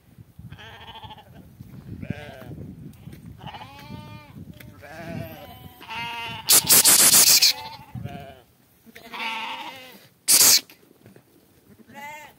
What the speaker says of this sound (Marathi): या मस्त शेळ्या चरतात, हे आपला बोकड आहे